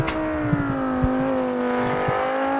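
A Formula 3 race car engine in BeamNG screams at high, steady revs, held on a sustained tone as the car is kept planted before a late upshift.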